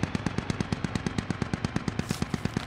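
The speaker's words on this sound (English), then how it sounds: "someone west is firing at me" Rapid automatic rifle fire in the military shooter game Squad, a steady run of about twenty evenly spaced, loud, close shots with no talk.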